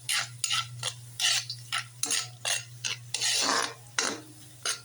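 Ginger is added to a cooking pan for escabeche and stirred, giving a series of close scraping and clinking strokes of a utensil against the pan in an uneven rhythm, with a low steady hum behind and no talking.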